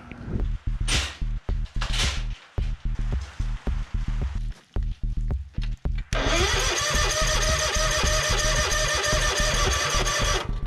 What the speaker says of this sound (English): So I believe this thing ran out of fuel, so it might take a little bit of cranking to get going.